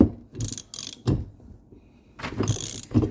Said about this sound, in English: I got another 1/2 inch drive ratchet.